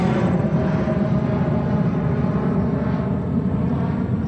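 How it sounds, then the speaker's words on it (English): An El Al Boeing 777 bound for Tel Aviv departs New York's JFK Airport, its jet engines producing a loud, steady broadband roar that holds without a break. "And next one for departure is El Al 777-8 Dreamliner, the baby liner, on her way to Tel Aviv."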